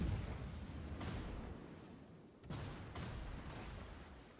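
Enemy warships fire naval artillery in World of Warships, making low, rumbling booms at a moderate distance, with two distinct heavy salvo onsets and a dull sustained roar in between.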